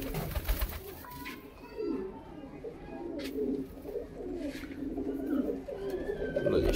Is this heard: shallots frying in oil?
no